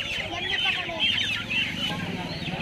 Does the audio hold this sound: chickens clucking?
yes